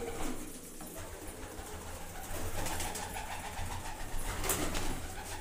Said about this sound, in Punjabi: ਆ ਬਾਈ ਕਬੂਤਰੀਆਂ ਸਾਰੀਆਂ